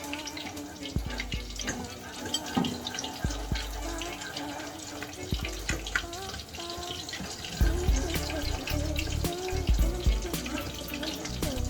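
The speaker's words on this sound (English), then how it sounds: "Wet your hands every few times." A kitchen tap runs steadily for wetting hands while shaping kobeda meat patties, a continuous close splashing stream with small drips and clinks throughout.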